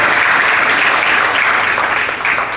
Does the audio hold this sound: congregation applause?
yes